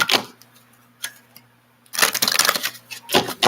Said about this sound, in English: Let me shuffle 3 more times since everything was coming out in 3s.